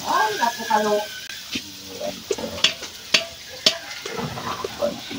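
Onions sizzle in a pan while being stirred quickly, a soft frying hiss broken by sharp scraping clicks from the utensil, heard under someone talking.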